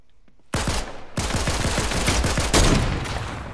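Fortnite gunfire in rapid bursts of loud, close shots, a dense stuttering fusillade that runs almost continuously after a quiet start.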